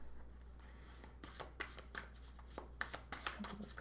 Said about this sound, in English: let's pull a card for your general energy